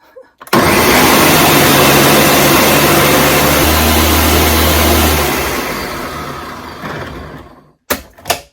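A countertop blender purees fresh basil leaves with oil, a loud continuous roaring whir that starts suddenly and runs for several seconds before winding down and stopping, followed by a couple of brief clunks.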